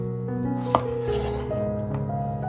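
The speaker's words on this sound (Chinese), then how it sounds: "首先准备一块南瓜，先切去果皮，再切成薄片。" A kitchen knife cuts a peeled pumpkin into thin slices on a board, with one crisp, close chopping thud and a few lighter cuts beneath steady background music.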